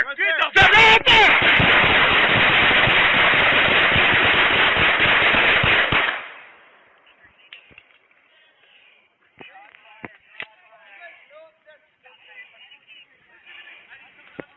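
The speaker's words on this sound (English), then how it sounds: "That was the 21 gunshots that killed him." Rapid barrage of police gunfire in a wooded area, dense overlapping shots for about six seconds, followed by scattered sharp noises and shouting voices.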